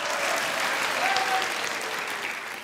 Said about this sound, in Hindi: जिनका ख्याल है जुनेद भाई ने अच्छा बनाया वो तालियां बजाए